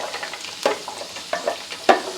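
Vegetables, including green chillies, beans and potato, sautéing in a pan for a vegetable pickle: a soft, steady sizzle with a few louder stirring scrapes, close and alone.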